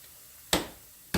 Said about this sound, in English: Now here's a few shakes of red pepper flakes.